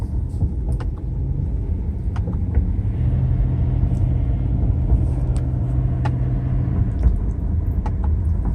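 A BMW E90 3 Series engine downshifts, heard as a steady, loud low drone from inside the cabin that shifts tone partway through, with faint clicks over it and no talking.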